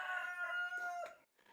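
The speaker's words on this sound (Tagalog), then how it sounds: "Pasensya, may mga manok dito." A rooster crows close by in one long, bright call with strong harmonics, followed by a brief softer cluck from the chickens, heard in a Philippine setting.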